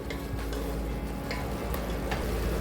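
Salted pieces of country chicken are stirred in a pan, giving a steady, close sizzling fry with faint scraping and light ticking stir strokes over 2-3 seconds, no voices.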